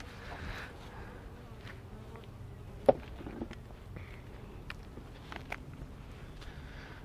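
Robber honey bees buzzing around a robbed-out beehive, a soft, continuous swarm hum close by, with a few faint clicks and knocks mixed in and no talking.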